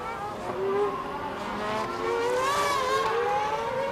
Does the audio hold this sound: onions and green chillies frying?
no